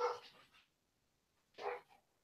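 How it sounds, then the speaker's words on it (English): A dog barks indoors, two short bursts of barking separated by a pause, fairly close and moderately loud, with no talking. "It's my dog."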